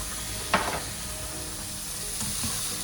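Minced chili, garlic and lemongrass sizzling in a hot pan for Thai yellow shrimp curry, a soft, steady frying hiss with a couple of brief clatters as the ingredients go in.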